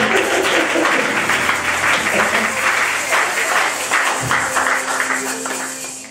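A church congregation applauds and acclaims the Lord at an evangelical service, with dense steady clapping mixed with cheering voices that stays loud throughout and eases slightly at the end.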